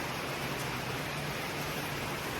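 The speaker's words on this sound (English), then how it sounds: "Sunday morning, a rainy morning. Down at the Bluffton boat ramp." Steady rain falls on a Sunday morning at the Bluffton boat ramp, a dense, even hiss that holds unbroken and fairly soft throughout, with no voices.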